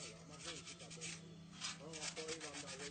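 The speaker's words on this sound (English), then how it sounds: "each piece is sanded to bring out the shine and beauty of the metal" Metal sculpture from Haiti being sanded by hand, a steady rough rubbing and rasping that swells in repeated strokes, close and fairly loud, with a low hum underneath and a faint voice in the background.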